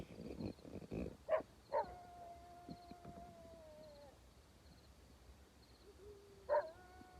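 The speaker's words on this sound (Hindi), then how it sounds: "भाई बाहर सिर्फ आवाजें आ रही है कुत्तों की और बार बार गिद्दड़ों की" Dogs and jackals call outside in a forest at night: a handful of distant, drawn-out wailing howls and yips, separated by quiet stretches, heard from inside a vehicle.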